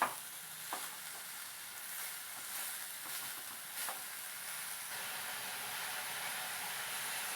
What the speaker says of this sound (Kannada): ಬೆಲ್ಲ ಎಲ್ಲ ಕರಗಿ ಕಾಯಿ ಒಟ್ಟಿಗೆ ನೀಟಾಗಿ ಮಿಕ್ಸ್ ಆಗ್ತಾ ಇದೆ.